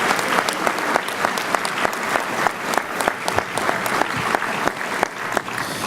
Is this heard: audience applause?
yes